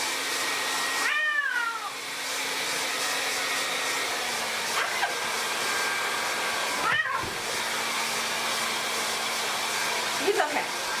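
A hair dryer whirs steadily at close range while being used on a cat, with several plaintive meows breaking through at intervals.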